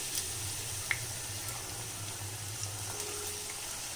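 Cabbage pakoda deep-frying in hot oil, giving a steady, soft sizzle and faint bubbling that runs evenly with no talking.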